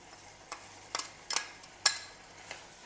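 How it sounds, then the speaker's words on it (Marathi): Grated fresh coconut being stirred into melted jaggery in a pan over low heat, for modak filling: a few soft, scattered scraping taps of a spoon against the pan, fairly quiet, with no talking. "आणि मस्त मिक्स करून घेऊया ही पूर्ण प्रोसेस स्लो गॅसवरच करायची आपल्याला"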